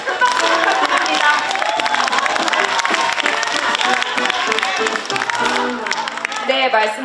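A large political rally crowd applauds and cheers a party leader on stage, loud dense clapping mixed with shouts and voices, and music running underneath throughout.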